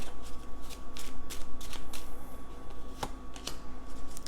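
Tarot cards are shuffled and drawn during a psychic tarot reading, a soft papery riffling that repeats in quick bursts, with two sharper card snaps near the end and no talking.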